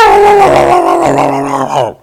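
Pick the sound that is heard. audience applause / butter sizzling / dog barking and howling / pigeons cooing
dog barking and howling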